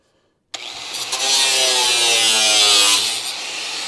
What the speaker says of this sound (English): Now I'm cutting up a good ways here